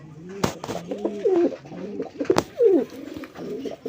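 Domestic and foreign pigeons kept for sale coo repeatedly at close range, with a few sharp clicks and rustles among the calls and no speech.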